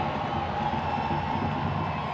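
Stadium crowd at an NWSL women's soccer match between Orlando Pride and Utah, cheering with a steady, dense roar as Alex Morgan comes on as a substitute, loud and continuous throughout.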